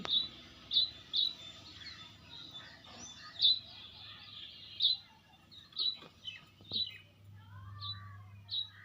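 House sparrows chirping from a small cardboard nest box kept at a home: sharp, repeated chirps about every half second to second, fairly close and clear over a low steady background hum, with no talking.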